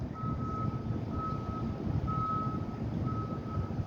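A bus near a police scene on a Boston street sounds its reversing alarm while attempting a U-turn: a steady, evenly spaced series of loud single-tone beeps over a constant engine and traffic rumble, with no talk.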